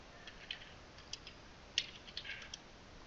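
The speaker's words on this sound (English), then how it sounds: "Now type your password." A password typed on a computer keyboard, a handful of soft, sparse key clicks close by in a quiet room.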